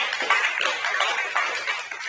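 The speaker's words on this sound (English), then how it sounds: "Please, a loud round of applause for him." Audience applause at a national symposium on elder psychological care, a steady crowd clapping that holds evenly for about two seconds with no talk over it.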